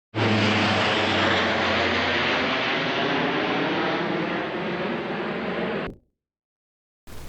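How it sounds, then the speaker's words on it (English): A low-flying airplane roars overhead at close range, a broad steady rush that holds loud for about six seconds before cutting off abruptly into silence. "If you know what kind of plane that is, drop it in comments."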